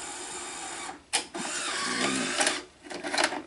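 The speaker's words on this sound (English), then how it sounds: "the tape is now loading and unloading correctly" A Sony SL-HF400 cassette deck mechanism whirs and clunks as it loads and then unloads a tape, with motor hum broken by a few sharp mechanical clicks, heard close and without speech.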